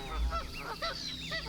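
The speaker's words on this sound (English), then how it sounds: "goose," A farm goose honks in a quick series of nasal, repeated calls, five or six bursts in a row, moderately loud and close, with no voices over them.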